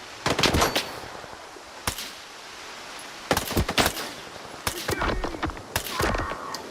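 Gunfire in the video game S.T.A.L.K.E.R. 2: Heart of Chornobyl, several short automatic bursts and single shots spread across the clip, loud and close, some echoing; no talk.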